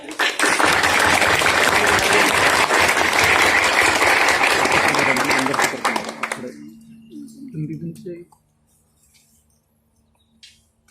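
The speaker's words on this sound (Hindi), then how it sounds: "जरा तालियों से उत्साह बढ़ाएं" An audience at a Republic Day celebration at a national institute for the visually impaired in Dehradun gives loud, full applause for about six seconds. It then tapers into sparse claps and voices before falling quiet.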